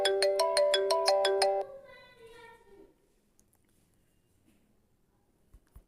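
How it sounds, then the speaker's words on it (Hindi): A mobile phone alert for an arriving OTP text message: a quick run of bright chiming notes for about a second and a half, then a fading tail and near silence. "मेरे मोबाइल पे OTP आ चुका है"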